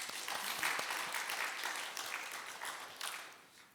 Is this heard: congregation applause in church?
yes